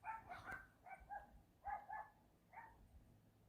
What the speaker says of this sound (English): What? Yorkie's barking?